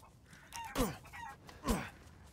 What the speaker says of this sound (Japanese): あ、来た、ニワトリ